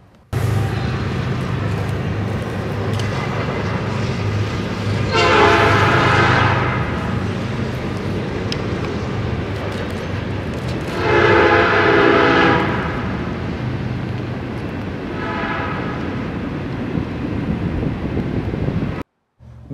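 A heritage train led by a GE 44-ton diesel locomotive rolls past near a station, its rumbling engine and wheels continuous under gusty wind, with three long horn blasts sounding one after another.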